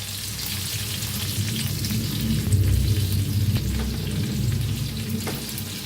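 Stuffed green bell peppers sizzle and fry steadily in an oiled pan for a home-style village vegetable dish, a continuous close crackle that swells slightly midway, with no talking.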